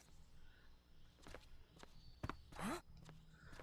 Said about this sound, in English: Are those footsteps?